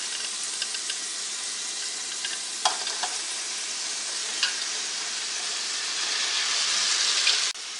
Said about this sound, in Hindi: ये वाली कटी हुई सारी वेजिटेबल डाल लेते हैं।